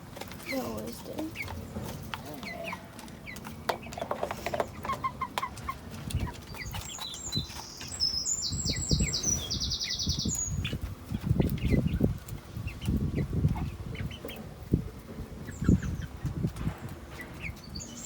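Chickens clucking in a backyard garden coop, with soft scattered clucks and scratching close by while a few higher calls rise briefly midway, over light outdoor background.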